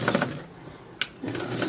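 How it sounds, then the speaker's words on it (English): A sewing machine stitches across the bottom of a small doll sock in two short mechanical whirring bursts separated by a pause with a single click. "now we're going to sew across the bottom"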